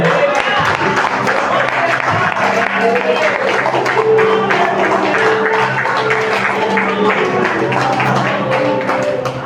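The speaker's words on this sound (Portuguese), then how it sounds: "quero agradecer aí, uma salva de palmas bem forte por Jesus" A church congregation claps during a worship service, a steady patter of many hands mixed with crowd noise, with voices and tonal sound running underneath.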